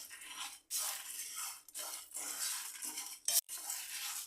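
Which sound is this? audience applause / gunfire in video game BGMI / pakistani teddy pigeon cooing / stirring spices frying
stirring spices frying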